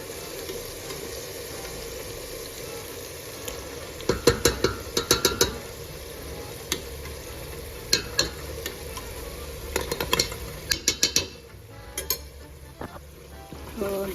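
Masala frying in a pan with about three spoons of yogurt for dried-fenugreek-flavoured mangochiyan, a steady close sizzle running throughout, with bursts of scraping spoon strokes and clinks clustered mid-clip.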